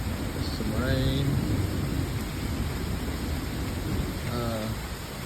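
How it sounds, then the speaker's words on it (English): Steady rain falls during a Kansas storm, a continuous broadband hiss with brief faint whistling sounds mixed in, and no clear talk over it. "Oh, the front, it don't look too bad. Just some rain."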